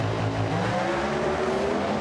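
Drag racing cars at the 2015 FIA Euro Finals launch off the start line with a loud, dense engine roar that stays steady over the short stretch, heard without any voices.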